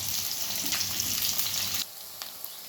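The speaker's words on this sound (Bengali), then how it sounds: "তো এই চপ করা পেঁয়াজগুলোকে আমি একটু গোল্ডেন ব্রাউন করে" Chopped onions frying in hot oil in a kadai, a continuous bright sizzle for nearly two seconds that then drops to a quieter hiss with a couple of small crackles.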